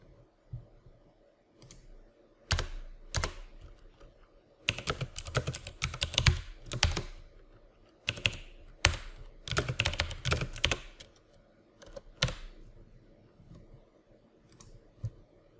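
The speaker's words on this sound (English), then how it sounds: "Let's type in the formula." Someone types a formula on a computer keyboard in quick bursts of crisp, close key clicks separated by short pauses, in a quiet room with no talking.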